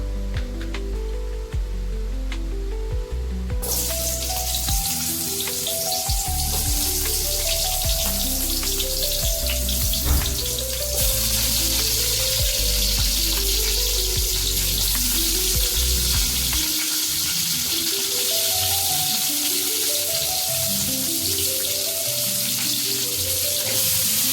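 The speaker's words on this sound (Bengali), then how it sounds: "এবারে এই কড়াতে আমি সবজিটাকে ভেজে নেব, একটু হালকা করে সবজিটাকে ভেজে নেব।" Vegetables fry in a kadai for khichuri with a loud, continuous, hissing sizzle, broken by rhythmic stirring scrapes throughout and a brief drop in hiss partway through, no talking.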